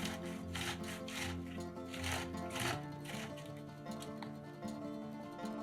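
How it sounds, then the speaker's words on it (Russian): About 150 grams of boiled sausage is rubbed across the coarse side of a grater in quick, rhythmic strokes, a rasping shuffle repeating roughly twice a second at close range, moderately quiet and with no speech. "Примерно 150 грамм вареной колбасы трем на крупной терке."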